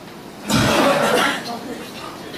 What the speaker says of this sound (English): 1, 2, 3, inhale. Then cough.